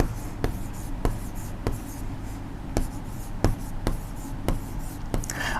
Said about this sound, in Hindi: ये राशि हम यहाँ पर लिख देते हैं